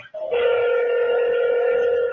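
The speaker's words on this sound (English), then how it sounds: "Pick up the phone." A telephone rings with a steady electronic tone, loud and close, holding for about two seconds after a brief lower chirp at the start, with no talking.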